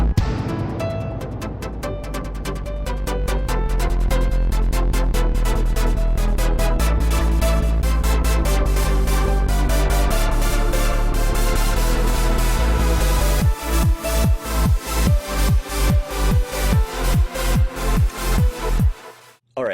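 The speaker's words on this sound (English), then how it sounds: "how to make a super cheesy rave synth that is just basically epic cheese" A cheesy rave synth patch built on a Logic ES2 synthesizer plays a dense, loud sustained chord pattern over pounding bass, then switches to rapid pumping stabs that cut off abruptly.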